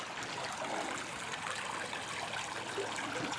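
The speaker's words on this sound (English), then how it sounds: "Let's see this creek." A creek flows steadily beside a walking trail, a continuous soft rushing and trickling wash with no voices over it.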